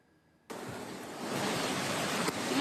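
A flooding river in Solok, West Sumatra overflows into a residential area, a loud, steady roar of rushing water that starts abruptly and builds slightly, dense and close throughout.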